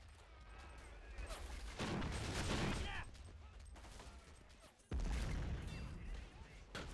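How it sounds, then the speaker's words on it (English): Mortar blasts and gunfire in the WWII strategy game Men of War: Assault Squad on Okinawa: continuous distant rattling fire with two heavy booming impacts around 2 and 5 seconds, rather faint overall. "There's a mortar shooting me."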